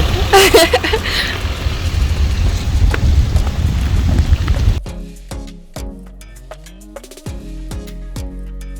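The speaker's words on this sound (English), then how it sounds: "It's raining." Steady rain hiss with wind and rumble in Albany, Western Australia for several seconds, then it cuts to quieter sounds with sharp clicks and tones.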